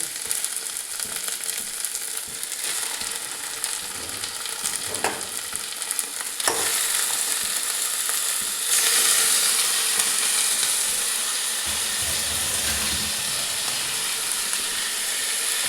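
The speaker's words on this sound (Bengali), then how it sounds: "মাংসটাও ভালো করে একবার নাড়িয়ে নিচ্ছি।" Goat meat frying in a hot pan for a papaya and mutton curry, a continuous close sizzle and hiss with scattered stirring scrapes, swelling louder midway as the meat is turned.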